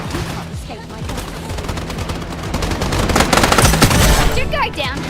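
Rapid automatic gunfire bursts from the video game Stirnova, dense and loud, with repeated fusillades building toward the end over a busy mix of game effects.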